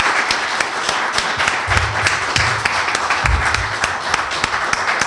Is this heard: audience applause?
yes